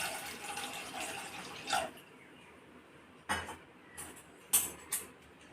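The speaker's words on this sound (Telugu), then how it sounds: "ఇందులో ఇంకొంచెం నీళ్ళు పోసుకొని" Water pours into a pressure cooker holding soaked chickpeas for chole masala, a steady splashing stream for about two seconds, followed by a few sharp clinks and knocks of the pot.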